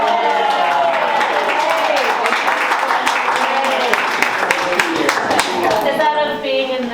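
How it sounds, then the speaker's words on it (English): An audience claps and applauds during a tour-and-talk event honouring a couple's 60th wedding anniversary, with a steady patter of hands running under a speaking voice. "while we're all clapping, giving a round of applause"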